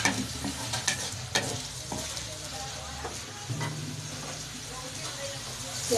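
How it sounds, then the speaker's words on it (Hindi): Onions frying in a pan toward golden for aloo baingan, a dense loud sizzle with scraping stirs and clatter of the utensil against the pan, continuous throughout. "प्याज को अच्छी तरह गोल्डन करेंगे।"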